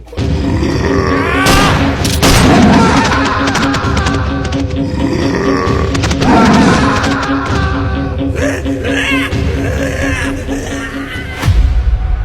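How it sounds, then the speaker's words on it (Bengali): Gunshots ring out at a white hyena in a dramatised forest tale. Several sharp loud bangs are spaced through the scene over tense background music, with gruff voices grunting and shouting in between. "তোমাকে লাল নীল দেখতে হবে না নবীনবাবু, গুলি করো"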